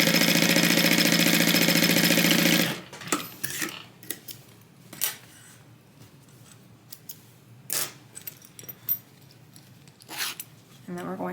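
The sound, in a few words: sewing machine stitching tote bag pocket pieces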